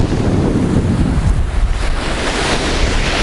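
Storm wind gusts hard at the seafront in Adler, Sochi, blowing spray as big waves crash, a loud, roaring wash of wind buffeting the microphone with surf surging underneath, no voices.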